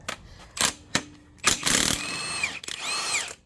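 Short bursts of a Milwaukee cordless power tool whirring and rattling while removing engine bolts on a 1996 Subaru EJ 2.5 engine, several quick spurts followed by longer runs with a rising mechanical whine, close by.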